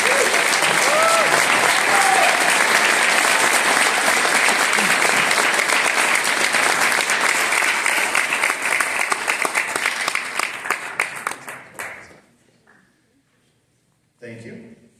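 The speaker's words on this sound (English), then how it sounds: "Let's give these guys one more round of applause." A school auditorium audience gives students a loud round of applause, a dense sustained roar of clapping that holds steady for about ten seconds, then thins and dies away into near silence before a brief final burst.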